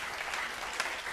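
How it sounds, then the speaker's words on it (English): An audience at a hackathon closing ceremony applauds in a steady wash of clapping, loud and continuous for about a second, with no voice over it. "a big round of applause to all of you guys for doing such an amazing job"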